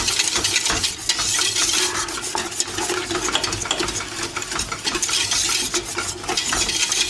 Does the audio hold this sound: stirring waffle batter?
yes